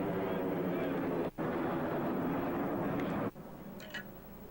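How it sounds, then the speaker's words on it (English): A jet airliner climbing out overhead after takeoff from O'Hare Airport, above an outdoor high school baseball game, a steady broad roar that fills most of the clip with brief dropouts and faint background sounds. "We're under the takeoff area for O'Hare Airport here."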